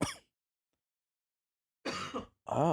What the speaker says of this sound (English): What's up with my cough?